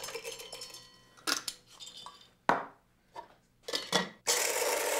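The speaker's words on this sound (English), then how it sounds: "Now for that star anise, it looks like I need to grind it up." Whole star anise is ground by hand in a home kitchen, giving irregular scraping and crunching bursts, then a sustained loud rasping grind at the end, with no talking.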